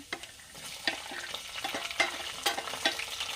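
Chopped ginger, garlic and green chili fry in a pan, a faint steady sizzle broken by repeated clinks and scrapes of a spoon stirring, with no talking.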